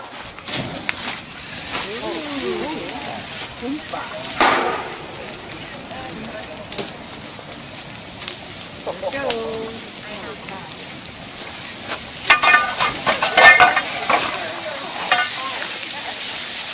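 An outdoor Door County fish boil: a kettle over a wood fire boils over with a rush of crackling, hissing and sizzling flame, steady and fairly loud, while nearby voices talk and exclaim throughout.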